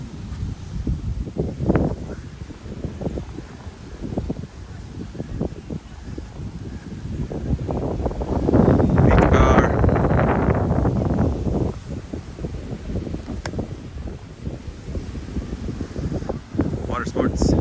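Strong wind buffets the microphone in gusts, peaking in the middle, while a person talks over it on a beach at Planet Hollywood Cancun, with choppy water.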